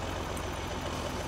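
Steady, dense tractor engine drone from Farming Simulator 22 as the tractor drags logs, a constant mid-level rumble with no change in pitch over a short stretch and no voices.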